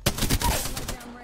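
Rapid gunfire from the video game Apex Legends cracks out as a quick burst of several close, loud shots in about a second, with no pause between them.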